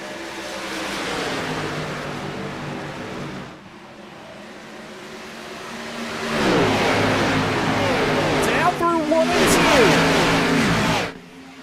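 Xfinity Series stock cars in a racing video game roar off the green flag at Charlotte, a loud engine drone swelling as the pack accelerates, with whining gear shifts toward the end.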